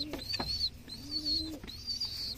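Pigeons kept at a home loft coo softly in the distance, a few faint repeated calls mixed with light chirps over a quiet outdoor background.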